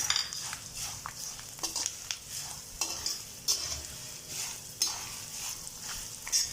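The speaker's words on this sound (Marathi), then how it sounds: "तर डाळ्या टाकते मी शेवटी." Roasted chana dal stirred into murmura chivda frying in a pan, a soft continuous sizzle broken by repeated scraping and clinking strokes of a spoon against the pan, no voices.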